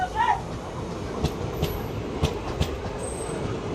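Passenger train pulling out of Sarwadi railway station in India, a steady rumbling roll with periodic wheel clacks and a faint high squeal, a voice speaking briefly at the start.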